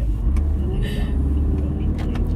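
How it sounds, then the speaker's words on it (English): A car circles a roundabout twice, its engine and tyre noise forming a steady low rumble heard from inside the cabin, with no voices in the clip. "I just drove twice around the roundabout."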